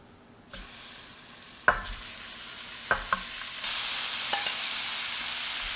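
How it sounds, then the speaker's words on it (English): Raw shrimp for blackened shrimp and grits hit a hot pan and sizzle steadily, with a few sharp utensil clicks, and the frying grows louder and hiss-heavy partway through. No one speaks. "Now, I'm going to add our shrimp."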